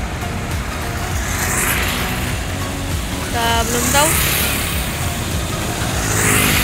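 An intercity night bus on the Palembang to Bandung route rumbles steadily at departure, engine noise constant under brief nearby talk.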